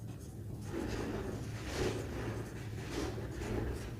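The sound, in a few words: writing by hand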